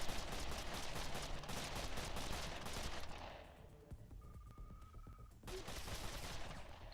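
Dense gunfire and fusillade in the video game Wasteland 2, steady and loud for about three seconds, then dropping to near quiet with a thin tone before the shooting resumes.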